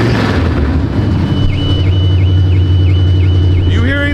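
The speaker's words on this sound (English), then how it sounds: "when it idles out, it's very loud on startup. You can start to hear the chop when it sort of gets up the temperature." A drift car's engine idles loudly and steadily close by after a cold start, with a deep low drone throughout, while a nearby car alarm wails in a repeating pattern that shifts near the end.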